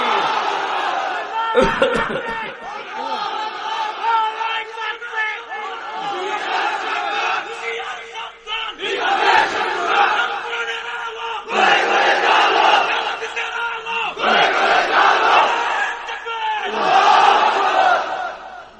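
Large religious gathering crowd roaring a takbir chant in unison, loud repeated surges of massed voices rising and falling in several waves, near and dense.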